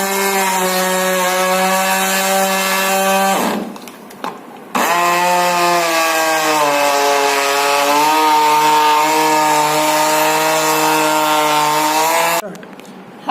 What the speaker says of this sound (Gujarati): હવે આપણે આને મિક્સરમાં કે ગ્રાઇન્ડર